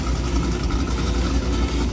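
Deep, rumbling engines of 1,000+ horsepower street-race cars idle and roll together, a heavy low drone with uneven pulsing, fairly loud and close.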